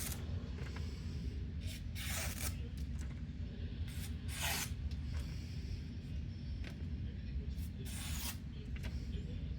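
An RPM9 stainless steel knife blade is stropped in repeated passes, giving soft rubbing and swishing strokes every second or two over a steady low background hum.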